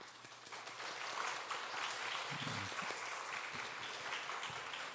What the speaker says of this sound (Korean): 우리 박수로서 우리 환영하도록 하겠습니다